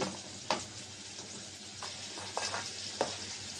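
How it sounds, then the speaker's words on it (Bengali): Potatoes and chicken fry with chopped onion in a pan, giving a soft, low sizzle broken by a few scraping stirs. "আলু গোশ একসাথে ভেজে নেব। পেঁয়াজ কুচি দিয়ে দিলাম।"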